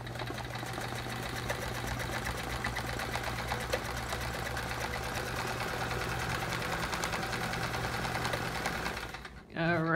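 A sewing machine runs steadily for free-motion quilting on a chevron quilt, its fast, even needle hum loud and close throughout before it stops abruptly at the end.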